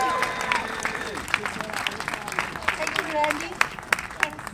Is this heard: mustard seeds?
no